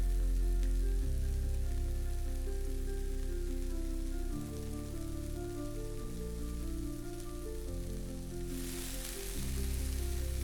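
Finely chopped ginger, garlic and shallots sizzle steadily in a pan with a constant crackling hiss, close and continuous, alone without any voices.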